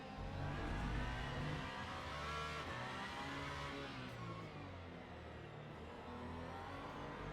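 A race car in Le Mans Ultimate, played in VR, drifting through a turn, its engine revving high and loud and steady, then easing slightly as the car comes out of the bend, with no voices.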